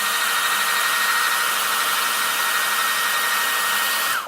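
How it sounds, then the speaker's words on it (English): A handheld hair dryer blows with a loud, steady whooshing roar that runs continuously for about four seconds and then winds down at the end, with no talking. "I'll take a hairdryer and turn it on"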